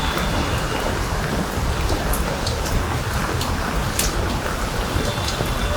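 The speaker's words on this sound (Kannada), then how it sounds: "ನೋಡಿ, ಎಲ್ಲ ಕಡೆ ಮಳೆ ಬೀಳ್ತಾ ಇದೆ." Steady rain falls across a terrace garden in Bangalore, a dense continuous patter with occasional louder drips standing out, heard alone and fairly close throughout.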